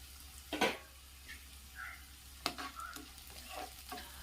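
Brinjal with curry leaves is stirred in a pan, with soft scraping strokes and a low sizzle over a quiet hum, the stirs coming in irregular bursts.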